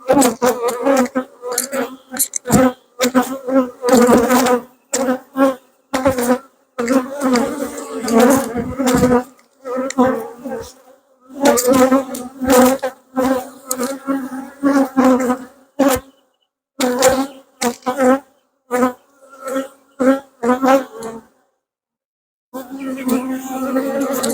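Honey bees buzz steadily around an open hive during an inspection, a close, droning hum that rises and breaks off in repeated bursts with brief gaps of quiet.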